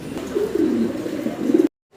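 An English carrier pigeon coos close by in a low, throaty, rolling call lasting over a second, then abrupt silence.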